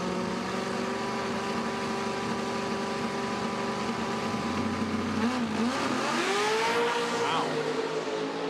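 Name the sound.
pro mod drag racing cars launching down the strip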